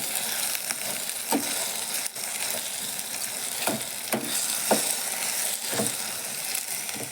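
Chopped okra (lady's finger) sautéing in a pan, a steady close sizzle with regular scraping and stirring knocks from a spatula every half second or so, no voices.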